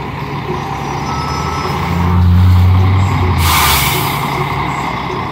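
A new São Paulo city bus, an air-conditioned E-Millennium of the Transwolff fleet, pulls in close with engine rumble and a loud hissing air-brake release.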